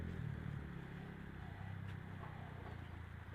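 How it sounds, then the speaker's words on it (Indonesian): Motorcycles and cars pass on a road close to a roadside hut, a low, steady engine rumble with a rising rev, moderately loud and continuous with no talk over it. "Ramai suara kendaraan di sini teman-teman, karena dekat jalan, suara motor, suara mobil."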